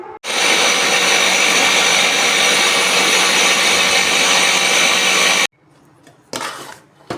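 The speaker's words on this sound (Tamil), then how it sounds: "மிக்சி ஜாரில் சேர்த்து குரகரப்பாக அரைச்சி எடுத்துக்கலாம்" A kitchen mixer grinder coarsely grinding roasted idli podi runs loud and steady for about five seconds, then cuts off, followed by a short rattling burst of the jar.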